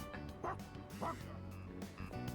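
A dog in the video game Persona 3 Reload gives a few quick barks and yips, mixed in with game music and a talking voice.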